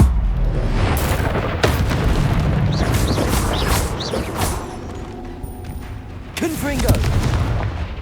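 Blast spells explode in Hogwarts Legacy: several loud, sharp booms and bursts come in quick succession amid spell whooshes and other game effects, with some speech in between.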